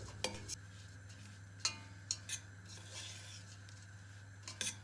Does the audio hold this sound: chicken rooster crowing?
no